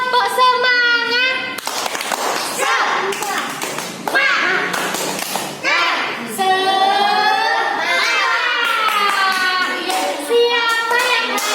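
A class of children performing the tepuk semangat clapping chant, sharp rhythmic hand claps in bursts mixed with loud sung and shouted children's voices, close and energetic throughout.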